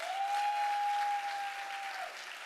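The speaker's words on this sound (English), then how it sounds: "Please give them a round of applause." Audience applause at a gala awards event, a soft, steady patter of many hands clapping, fairly distant and even, with a faint whistle over it.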